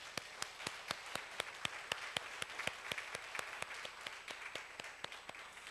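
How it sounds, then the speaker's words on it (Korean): A church congregation gives applause for two pastors: quiet, fairly distant clapping in a steady, even rhythm of sharp individual claps. "우리 두 분 목사님 위해서 한번 박수 하실까요?"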